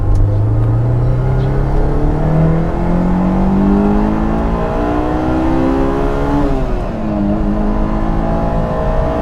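A 2003 Honda S2000 AP1 accelerates on the road, its engine revving up steadily through a gear, dipping at a shift, then pulling again, loud and close from inside the car.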